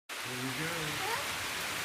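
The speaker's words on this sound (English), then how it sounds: "We're gonna go out there in the rain." Rain falls outdoors as a steady, even hiss of broadband noise that starts suddenly and stays constant, with faint low murmurs underneath.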